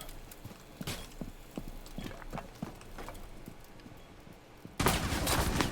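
Enemy gunfire in a shooter video game arrives as scattered sharp reports and rapid bursts, moderately distant at first, then a louder dense burst of noise near the end, with no voices.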